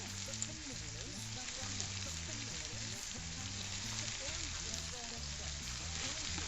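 Onions and pepper for a Spanish tortilla fry in a pan with a steady, dense sizzle and crackle. A voice talks over it, and music plays faintly underneath.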